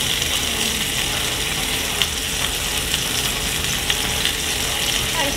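Blackened salmon sears in a well-seasoned cast iron pan, giving a steady, dense sizzle close by with a few scattered pops and crackles throughout.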